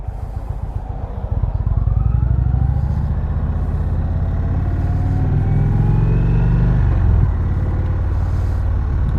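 A 2020 Indian Springfield motorcycle's big V-twin engine rumbles loud and steady while riding in second gear, rising in pitch as it accelerates, then holding a deep throbbing drone with wind rush.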